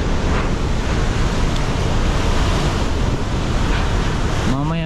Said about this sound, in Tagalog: grabe lakas ng hangin mga kapangil